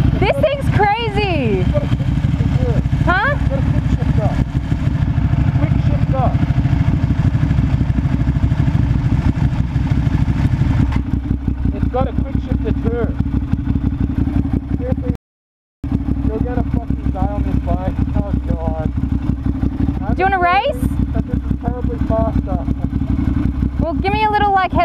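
A Ducati Monster 659 motorcycle heard while riding, with a loud, steady engine drone under the rider's excited talk, a brief dropout, then the engine continuing beneath more speech.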